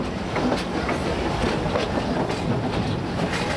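A safari tour train at Busch Gardens, Tampa, rolling steadily along the rails, a continuous rumbling clatter with faint rhythmic clicks, no voices.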